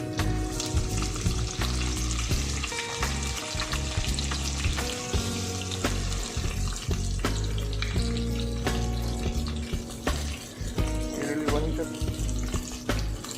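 Whole spices such as cloves and cardamom frying in oil for a chicken gravy, a steady loud sizzle with stirring clatter running throughout.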